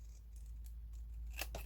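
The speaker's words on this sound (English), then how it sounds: "cutting up the edge of the paper." Scissors snip along the edge of paper during a papercraft session making bellybands, with a few faint, crisp cuts ending in two sharper, closer snips over a low steady hum.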